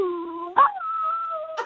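A dog named Jubal performs a trick, giving a drawn-out, wavering howl-like vocalization with sharp yelps breaking in, close and clear with no talk over it.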